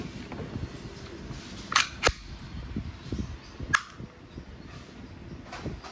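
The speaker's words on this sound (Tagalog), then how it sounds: "Glock 23 semi and full auto." A WE airsoft Glock 23 pistol, semi and full auto, fires a few sharp, close, snapping shots, two in quick succession and one more after a pause, over a quiet background.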